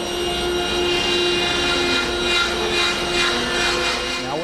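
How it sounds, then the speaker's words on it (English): A table saw with its blade tilted to 4 degrees rips a poplar wedge, a loud, steady whining drone with a faint rising tone near the end. "Now I've tilted the saw blade over at 4 degrees"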